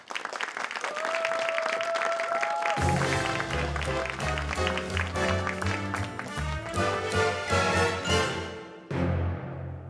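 Loud, dense audience applause at a Singapore stage show welcomes comedy duo Wang Sha and Ye Feng. It bursts in after a quieter opening with a sustained tone, swells and keeps going with music underneath, then cuts off sharply near the end.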